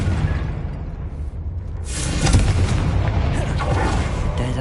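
A Confringo fire spell exploding in the video game Hogwarts Legacy, a loud booming blast that swells midway and rumbles on over continuous game background noise.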